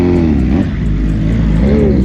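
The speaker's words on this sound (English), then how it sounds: "The bike's leaving." A motorcycle pulls away from a car meet at an underground spot, its engine a loud, continuous, close rumble that rises and falls in pitch as the rider revs, with no talk over it.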